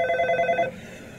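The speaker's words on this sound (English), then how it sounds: "Mr. Peacock, there's a Mrs. Peacock on the phone for you." Telephone ringing with a bright, warbling electronic trill lasting over half a second, then cutting off into quiet room tone.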